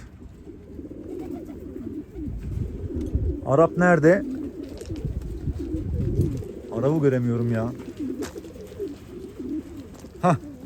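Pigeons cooing in a loft, several soft rolling coos in separate bursts close by, with someone talking over them.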